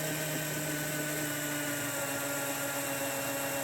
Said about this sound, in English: We won't bore you with drilling all of those holes on every single piece.